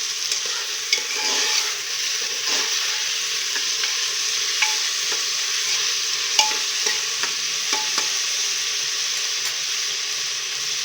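Sprouted horse gram frying in a pan, giving a steady close sizzle with a bright hiss and scattered soft scraping ticks from stirring throughout, with no voices.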